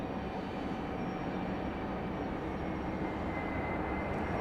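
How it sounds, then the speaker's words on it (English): A jet airliner landing at Raleigh-Durham International Airport gives a steady, loud roar of engines and rushing air as it touches down, with no voices. "Nice smoky touch down there."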